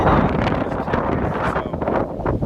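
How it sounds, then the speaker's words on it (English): Strong, gusty wind blows outdoors at a Castro Street property in San Francisco. It makes a loud, continuous roar that buffets the microphone, with no talking. "no way about it's super windy today"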